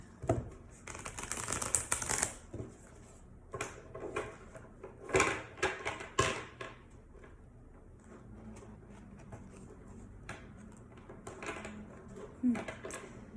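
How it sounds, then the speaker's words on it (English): Tarot cards being shuffled by hand, bursts of riffling and slapping card sounds in uneven clusters, close and crisp with quieter pauses between, and a voice speaking briefly at times. "Some cards are not wanting to mix."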